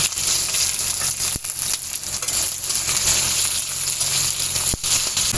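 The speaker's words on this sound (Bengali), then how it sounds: "গোটা জিরে আমি পেঁয়াজ কুচিটা এর মধ্যে দিয়ে দেব" Chopped onion and whole cumin seeds sizzle loudly in hot oil, a dense close crackling hiss with a couple of sharp clinks from stirring.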